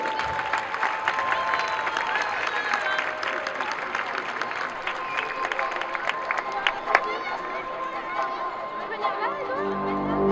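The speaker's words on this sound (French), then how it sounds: "sous un tonnerre d'applaudissements, bien sûr" A crowd claps and cheers in a steady, dense wash of applause, with scattered whoops and chatter mixed in, fading slightly near the end.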